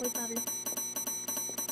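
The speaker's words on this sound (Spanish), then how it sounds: "¿Y si le sigo tocando la campana" A bell struck repeatedly in a horror video game, a regular series of bright metallic rings with game tones and an electronic hum behind them.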